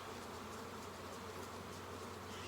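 Honey bees swarm around an open beehive, making a dense, steady, close buzzing that holds throughout with no talking.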